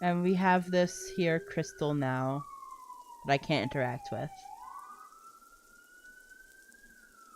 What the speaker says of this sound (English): I'm sorry about the sirens.